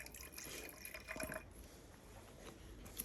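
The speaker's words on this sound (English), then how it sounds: "pour about 2 fingers of vinegar into the first beaker" Vinegar poured into a beaker: a short splashing, trickling pour of liquid, faint and close, with no talk.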